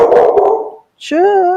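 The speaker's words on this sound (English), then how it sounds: "She likes to bark when I'm streaming." Pet dog barking indoors during a live stream, a couple of quick close yips and a whining bark right after a voice.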